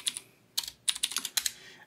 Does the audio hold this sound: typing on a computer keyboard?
yes